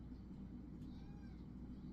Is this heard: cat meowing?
yes